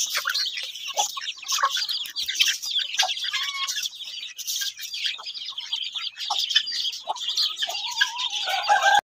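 Chickens cluck and chirp continuously in a busy coop, several birds overlapping at close range, with a few brighter calls near the end.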